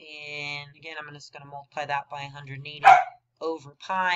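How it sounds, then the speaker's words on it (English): A dog barks intermittently in the background of a home, short yips breaking through while someone talks steadily over them in the foreground. "That is my dog barking in the background."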